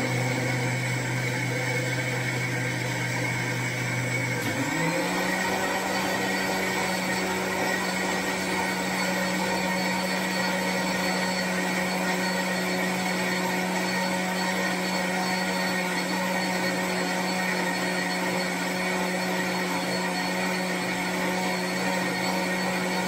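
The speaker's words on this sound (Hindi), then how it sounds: "बहुत अच्छे से हमारी हल्दी पीसते हुए" An electric grinder pulverising sun-dried homemade turmeric into powder whirs loudly and steadily throughout, its pitch shifting once early on before settling into a continuous drone.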